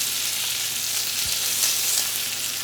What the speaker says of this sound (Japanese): 火加減はね、ずっと中火で焼いています。